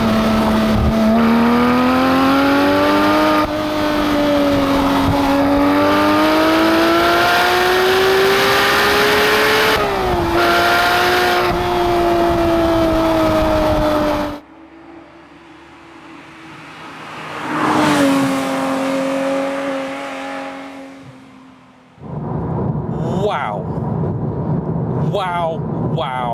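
A loud manual 991.2 Porsche 911 GT3 engine revs and climbs in pitch while accelerating hard to 6,000 RPM, then drops off, followed by a brief rising rev and a voice speaking.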